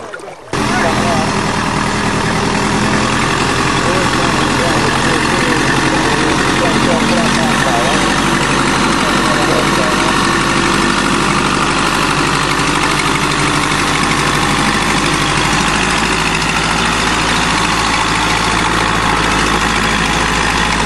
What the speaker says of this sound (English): Now we're getting the tractor.